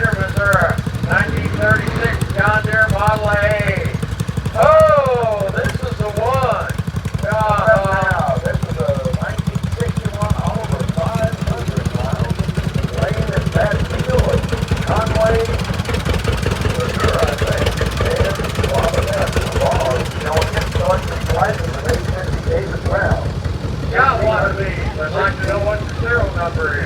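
A 1936 John Deere Model A tractor runs in a parade at a National Oliver Show, its engine chugging steadily in a low, continuous throb while a loudspeaker announcer talks over it almost throughout.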